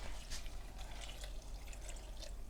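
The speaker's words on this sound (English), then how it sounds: "this is just raisins, and we put 2 cups of water in there" Water being poured into a pot of raisins, a steady broadband trickle and splash running throughout at moderate, close level, with small bright spatter bursts and no talking.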